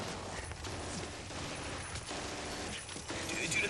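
Fireworks taped to a figure in a barn during a film stunt, crackling in a dense, continuous volley of pops and bursts at a steady loud level.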